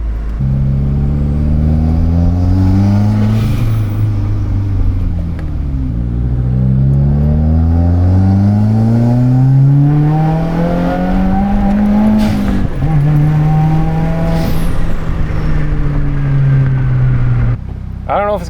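A car fitted with a Tomei Expreme Ti titanium exhaust and a catted Grimmspeed J-pipe drives steadily, its engine tone rising and falling through several gear pulls, loud and close from inside the cabin.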